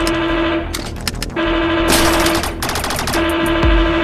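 Rapid bursts of gunfire ring out in the VR game Rec Room over a steady tonal hum from a looping announcement, loud and close, with several separate volleys across the moment.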